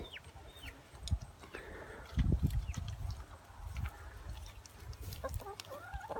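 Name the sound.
chickens clucking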